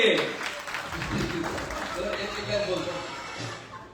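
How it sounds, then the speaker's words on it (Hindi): Audience applause at an award and recognition event in Delhi, bursts of clapping that rise and ebb under an amplified voice speaking over the crowd. "सभी ताली होनी चाहिए"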